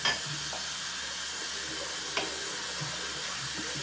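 Running water rinsing a shaving bowl at a sink, a steady soft hiss of the stream with a few faint clinks and taps of the bowl, fairly quiet and heard alone.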